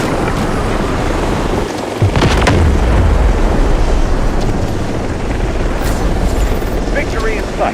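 Artillery barrage in the Delta Force shooter, heavy booming impacts landing within dense, continuous battlefield roar, one deep blast standing out early among the rumbling din.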